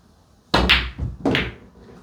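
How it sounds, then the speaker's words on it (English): Two heavy, sharp knocks about three-quarters of a second apart as balls on an 8-ball pool table are struck and dropped. Each knock is loud and close, followed by a short decay, with no talking. "pot that with top spin, come up the cushion, cannon the red"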